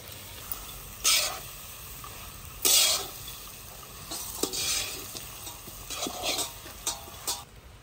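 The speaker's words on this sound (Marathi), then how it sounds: "आता आपण त्याच्यात हे भिजवलेले मुरमुरे टाकत आहोत।" Soaked puffed rice being stirred into a pan of fried peanuts, onion and tomato: scraping, rustling stirs with a few louder strokes over a faint steady sizzle, close up and with no talk.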